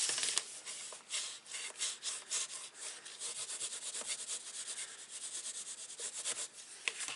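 Card stock is burnished flat with steady back-and-forth rubbing, a close, continuous dry scraping hiss that swells and fades with each stroke for several seconds.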